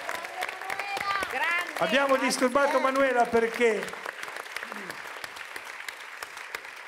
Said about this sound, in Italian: adesso fare tutti quanti un applauso pazzesco